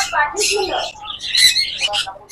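Busy chirps and squawks from several small birds in a pet shop, close and continuous, overlapping in quick bursts with no clear pauses.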